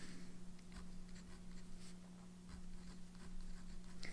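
A wet ink-loaded pen nib scratches across paper in short, faint strokes, a quiet intermittent scratching over a steady low electrical hum.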